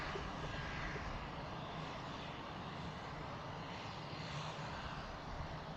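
Pilatus PC-12 turboprop running at an airfield in the evening, a steady broadband engine roar holding at moderate, distant level throughout with no voices.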